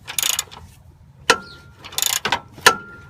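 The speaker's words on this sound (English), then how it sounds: "This is a 22mm socket, and you just got to get a few extensions here." A ratchet with a 22mm socket on extensions turns a Mustang motor mount bolt through the K-member, clicking in quick bursts between several sharp metallic clacks, close and loud with no talk.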